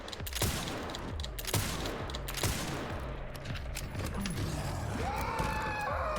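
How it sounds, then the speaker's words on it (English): Repeated gunshots in the horror game Resident Evil Requiem, sharp bursts recurring about once a second against a busy ambient game backdrop, with a brief tonal sweep near the end. "And then shoot him again"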